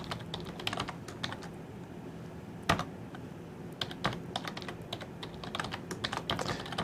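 A computer keyboard being typed on while credentials are entered, a quiet run of uneven, clicking keystrokes close to the microphone with brief pauses, and no voice.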